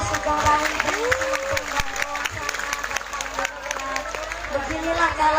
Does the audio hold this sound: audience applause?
yes